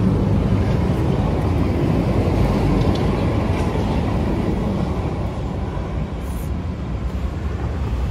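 A tram rumbles past close by on a busy Istanbul street, a steady heavy roll of wheels on rails with faint higher squeaks above it.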